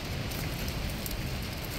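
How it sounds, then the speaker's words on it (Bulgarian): Heavy rain pours steadily on a street in Busan, a dense, loud, even hiss of drops on surfaces that carries on without a break and with no voices. "Ама доста си вали"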